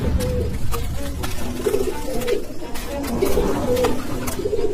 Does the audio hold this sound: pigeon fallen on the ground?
yes